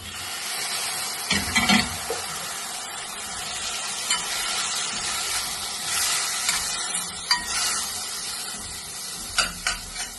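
Tomato goes into a pan of ginger, garlic and onion frying for a millet breakfast, giving a continuous sizzling hiss with a few scraping stirs and clinks of the utensil against the pan, with no talking.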